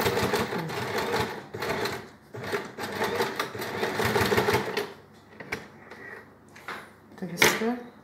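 Sewing machine stitching a skirt, a steady mechanical whir in bursts over the first five seconds, then shorter intermittent runs with pauses and handling noises, with someone talking over the machine.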